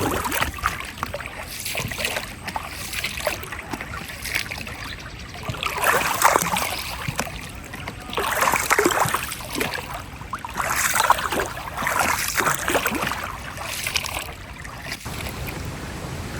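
A bamboo coracle boat rides river water at Hogenakkal, with steady broadband water rush and lapping, swelling in gentle surges over a constant outdoor wash, no voices.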